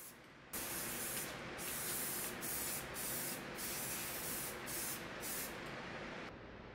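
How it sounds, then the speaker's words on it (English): Water-based high-build acrylic sealer is sprayed heavily onto mid-century Kent Coffey dresser drawer fronts, a steady loud hiss broken by several brief pauses between passes, heard close and alone. "I'm going to spray it on pretty heavy to the drawer fronts"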